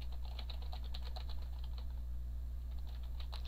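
Typing on a computer keyboard, quick irregular clicks of keys tapped in short bursts, close and soft, over a steady low hum.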